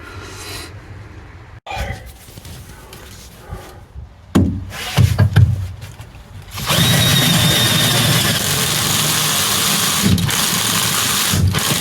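A power drill drives fasteners into a battery restraint made of a wooden piece and two aluminium angles. Quieter handling knocks come first, then a loud, sustained whirring drive runs steadily to the end.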